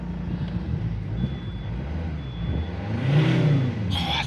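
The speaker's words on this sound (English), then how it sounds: "love that 5-cylinder diesel noise" A Volvo V70 D5 five-cylinder diesel engine revs nearby, its steady idle swelling into a louder rev near the end before easing off, with no voices over it.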